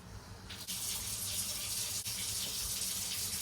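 Water pours steadily from a tap or container onto freeze-dried eggs in a kitchen, a continuous close gush with a brief interruption midway, no talking.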